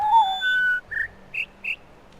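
A few short, clear whistle notes in the video game The Witness, each one stepping higher in pitch than the last, sounding alone with brief gaps between them.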